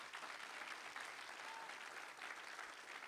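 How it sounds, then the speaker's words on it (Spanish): A church congregation applauds during a Spanish sermon, a steady, even wash of clapping heard at a moderate distance and sustained throughout. "denle un aplauso al Señor si es para Él"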